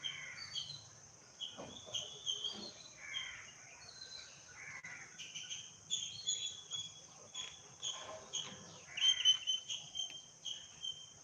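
A flock of sparrows chirping on a grassy morning lawn, many faint overlapping calls and twitters spread across the scene, distant and soft over a low steady background hiss.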